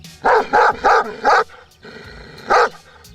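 A Kangal, a large Anatolian livestock guard dog, barks loudly and close by: four quick, evenly spaced woofs, a short pause, then one more bark.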